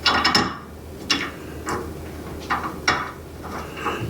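A bolt being threaded in by hand during shop work, heard close up as a run of irregular light metallic clicks and scrapes with quiet gaps between them, with no voices.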